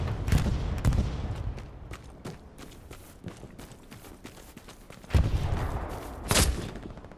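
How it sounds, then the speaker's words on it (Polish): Rifle shots and bursts of distant gunfire from the World War II shooter game Hell Let Loose on PS5 crack out irregularly, with a couple of louder nearby reports and footstep-like movement between them. "Skąd padł strzał w moim kierunku?"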